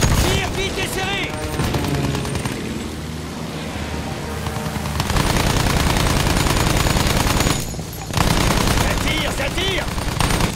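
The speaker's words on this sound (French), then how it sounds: "On nous tire dessus." Dense machine-gun bursts and overlapping gunshots fill a Battlefield 1 battle, loud and continuous for about ten seconds with a short lull near the eighth second, while voices talk over the din.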